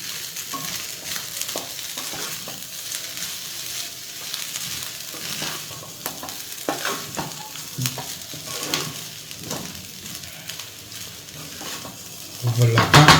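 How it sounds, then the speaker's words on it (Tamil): Street-style chicken fried rice is turned over in a hot pan, with a spatula scraping and tapping against the metal under a constant sizzle. A louder clatter of the pan comes at the very end. "ஒரு வாட்டி கிண்டிட்டு நம்ம ஆஃப் பண்ணிடலாம்."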